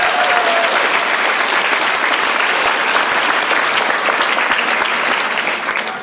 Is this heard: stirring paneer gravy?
no